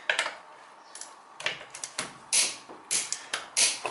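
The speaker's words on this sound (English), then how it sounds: "then it says this click, force is 100 in this bolt" Torque wrench clicking while tightening the rear brake caliper bolts on a 2002–2012 Toyota Corolla: a close series of sharp, dry clicks in irregular bursts, with no talking.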